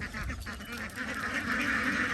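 A flock of CP Super laying ducks quacks and honks continuously, a dense, close chorus of overlapping calls with no speech.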